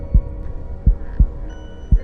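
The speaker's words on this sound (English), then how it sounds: "I swore to myself that I could hear my heartbeat in my eardrums." A slow heartbeat thumps four times in two seconds, each deep, muffled pulse standing alone over a low steady hum, with no talking.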